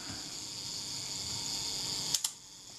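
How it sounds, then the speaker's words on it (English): A Kodak Retina IIIS camera under repair fires its shutter, two quick close mechanical clicks near the end following a steady whirring hum of the self timer running down. "The shutter fires."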